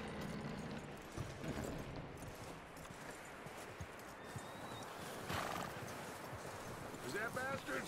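Rapid clip-clop of hooves close by in Red Dead Redemption 2, with a horse's whinny and snorting over a busy outdoor background.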